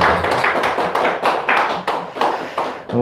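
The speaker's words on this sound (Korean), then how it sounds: "예, 우리 박수로 우리 축하하도록 하겠습니다." A church congregation claps during a Sunday service in Korea, a close, rhythmic burst of many hands beating in uneven pulses for about three seconds.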